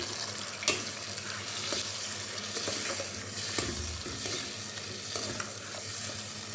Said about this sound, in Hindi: ये जो प्याज और टमाटर की पेस्ट हमने बनाई थी ये डाल देंगे और अब हम इसको ये भूनने लगेंगे।